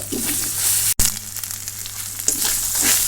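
Whole cinnamon, bay leaves and white cardamom fry in hot oil in a pan, giving a steady close sizzle with one very brief dropout near the start.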